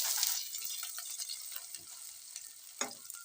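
Chopped ginger added to hot oil with cardamom, cloves and cinnamon, a loud crackling spit at first that settles into a softer sizzle with a few stirring scrapes.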